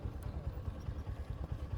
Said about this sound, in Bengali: অনেকগুলো বাইক গেছে।